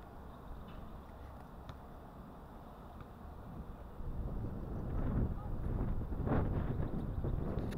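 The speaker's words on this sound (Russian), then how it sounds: "Сегодня очень сильный ветер. Очень сильный ветер, сносит буквально." Strong wind gusting in the open among lilac bushes at an old fortress in Tallinn, a steady roaring buffet on the microphone that grows heavier and more turbulent in the second half.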